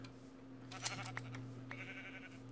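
Sheep bleat in the Minecraft video game, a few short nasal calls rising over a constant low electronic hum, fairly close and unaccompanied by talk.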